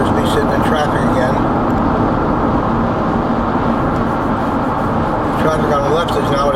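Steady broadband road noise from cars on Route 27, a scenic Florida route, heard from inside a vehicle as traffic slows toward gridlock; a continuous loud rumble with no clear breaks.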